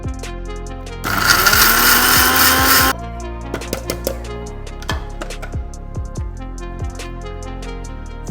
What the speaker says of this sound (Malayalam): ഇത്രയും നമുക്കൊന്ന് മിക്സർ ഗ്രൈൻഡറിൽ പൗഡർ ചെയ്തെടുക്കാം.